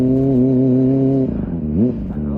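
Kawasaki ZX25R motorcycle engine running steady and loud while riding, a high smooth tone that shifts pitch near the end as revs change, with no voices.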